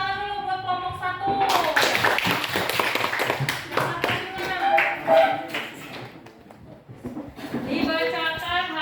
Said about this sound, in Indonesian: kita beri tepuk tangan dulu buat kelompok 1